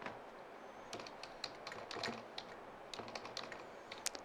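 Someone types on a computer keyboard close up, entering a web address: a quick, irregular run of crisp key taps with a few heavier strikes, over quiet room tone with no speech.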